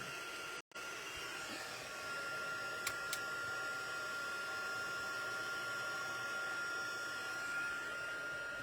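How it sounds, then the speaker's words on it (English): A heat tool blows hot air to melt embossing powder, a steady close whooshing hiss that runs nearly the whole time after a brief cut near the start, alone without talk. "I'm going to turn this on and get this heated up a bit, and then we're going to melt that embossing powder"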